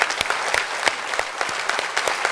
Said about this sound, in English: may I request all of you to join me in applauding the outstanding